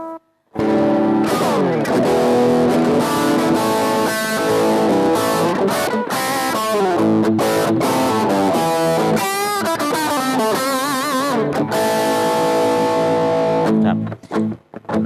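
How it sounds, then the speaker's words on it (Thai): Loud distorted electric guitar plays continuous riffs and chords through a Marshall Valvestate VS30R amp for a long stretch, ending with a few scratchy, choppy strums. "ทีนี้ก็มาทดสอบเสียงแตกครับเสียงแตก"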